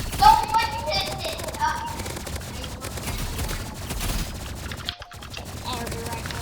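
Energy rifle fire in a one-on-one video game match, bursts of rapid synthetic shots crackling over continuous game noise, with a loud burst at the start and a sharp sound near the five-second mark.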